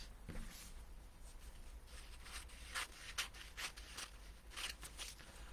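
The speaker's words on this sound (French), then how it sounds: "Donc là, vous coupez votre feuille." Scissors snip through a sheet of paper in a series of crisp, close cuts, with soft rustling between them and no talking.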